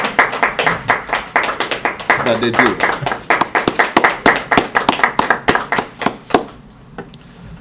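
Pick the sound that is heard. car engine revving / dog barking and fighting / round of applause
round of applause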